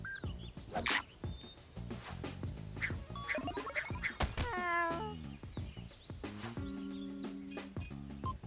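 A cat in the video game Echo Generation meows repeatedly, a run of short, bright, rising and falling calls close up, some drawn out and wavering, over quiet game sounds.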